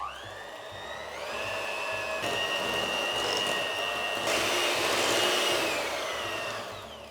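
An electric mixer creams butter and sugar with a continuous high whirring hum, its pitch stepping up a couple of times as the speed changes, then easing off at the end.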